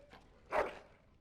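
A dog in the video game Dragon Age: Origins gives a single short whimper or yip, faint and brief, with no talk over it.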